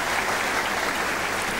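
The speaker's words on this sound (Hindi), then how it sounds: "आपकी भरपूर तालियों में" A dense, loud wall of applause from a ceremony audience greeting an Air Vice Marshal at a Pakistan Air Force event, continuous and close.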